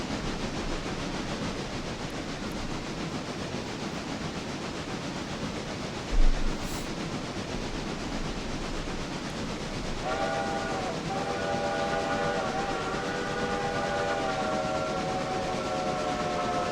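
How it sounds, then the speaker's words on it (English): A train rumbles steadily with broadband noise, then sustained tonal whistle or horn-like tones join in the second half, loud and close. "This train's actually loud enough he can get some speed."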